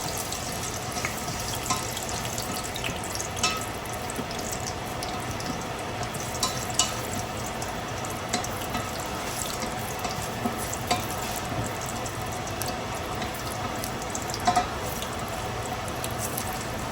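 Dried chili and cumin fry in hot oil as a tempering for chana dal, making a continuous dense sizzle with fine crackles that stays at an even level throughout.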